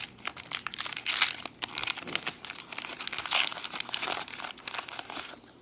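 Plastic holiday chill out bag, a snowflake-decorated cooling bag, crinkles and crackles steadily as it is handled up close, with sharp rustling bursts throughout and no speech.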